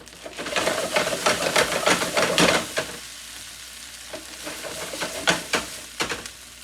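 Food frying in a pan on medium-high heat, a steady sizzle with intermittent stirring scrapes and clatters, louder in the first half and quieter afterward, with no talk.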